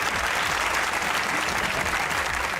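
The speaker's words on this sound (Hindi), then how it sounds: "अपने लिए तालियां बजाइए" A burst of dense, loud studio audience applause at a comedy talk show, steady clapping filling the whole moment.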